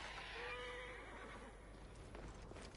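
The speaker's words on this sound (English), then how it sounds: "there's a horse on the way" A horse neighs in Assassin's Creed Origins, a faint whinny rising then trailing off early, followed by soft clip-clop and ambient game noise at low level.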